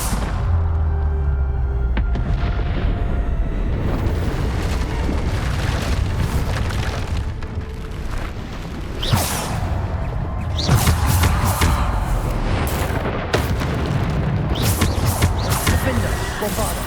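Spell blasts from the Hogwarts Legacy video game: repeated booming Bombarda explosions and crashes, loud and dense, set over a continuous rumbling game score with a voice calling out spells.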